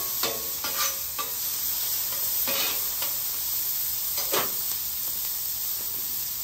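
Garlic and diced onions sizzle steadily on a hot flat-top griddle for hibachi, a constant bright hiss with a few sharper bursts and scraping stirs, close and loud with no talking.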